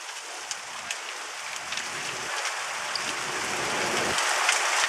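Hail pelting down outdoors in Wickhambreaux, Kent, during a thunderstorm: a dense, steady roar of hard pellets striking surfaces. It keeps up throughout and swells slightly louder toward the end.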